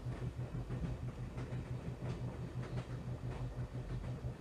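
A train running steadily in the Broken Sword adventure game, a continuous low rumble with a regular clickety-clack rhythm of wheels on rail joints, moderately loud and close, with no voices over it.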